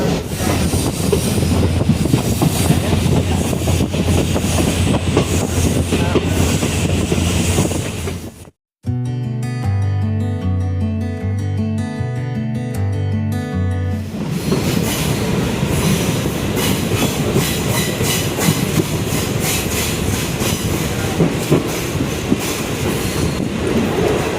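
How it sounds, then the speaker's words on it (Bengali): A passenger train pulls out of a junction on a Dooars rail journey, with steady loud rumbling wheel clatter throughout. Midway the clatter gives way briefly to a sustained tonal stretch before it resumes. "আমাদের ট্রেন নিমাল জংশন থেকে বেরিয়ে গেল"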